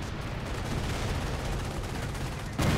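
Artillery fire in the Company of Heroes video game rumbles as a continuous wash of booming blasts, with a sharper impact near the end.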